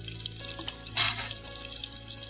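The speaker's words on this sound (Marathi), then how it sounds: "कढीपत्ता टाकतो. त्याच्यानंतर मोहरी टाकतोय" Curry leaves and mustard seeds sizzling in hot oil, a steady close frying crackle with a brief louder hiss flare, no talking.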